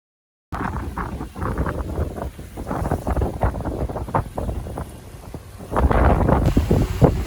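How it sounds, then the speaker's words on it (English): Strong wind buffets the microphone while water rushes past a fast-moving sailboat on San Francisco Bay, a steady roar with gusty surges. "It was fast sailing, as the winds got up as it always does in the bay."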